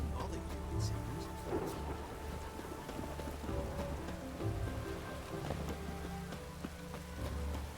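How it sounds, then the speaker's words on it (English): Steady rain falls with distant rumbling thunder in a stormy scene from The Witcher game, soft and continuous throughout, with faint background tones and occasional drips. "The storm, damn it. Rain doesn't bother you, it seems."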